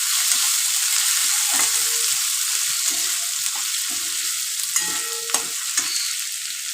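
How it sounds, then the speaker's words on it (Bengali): Thinly sliced potatoes and eggplant fry in a pan with little water, giving a loud, continuous sizzle broken by repeated stirring scrapes at close range, with no talking. "একটু ভেজে নিলাম।"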